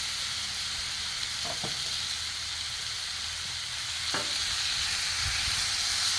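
Sirloin steak bites and vegetables sizzle on a Blackstone griddle in a loud, continuous hiss, with a couple of brief scraping taps from a utensil and no talking.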